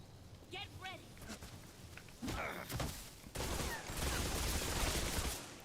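Gunfire in the video game Metal Gear Solid Delta: Snake Eater comes as scattered shots, then heavier sustained bursts toward the end, with a person talking over part of it.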